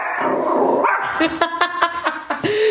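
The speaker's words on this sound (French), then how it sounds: "ma chienne aboie sur commande" A female dog barks on command in a home, giving several short, loud, sharp barks in quick succession with a voice briefly heard before them.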